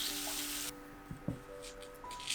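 Bacon frying in a pan over medium heat, a quiet steady sizzle with a brief hiss at the start and a couple of soft knocks as it is stirred.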